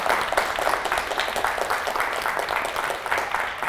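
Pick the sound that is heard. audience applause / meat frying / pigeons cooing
audience applause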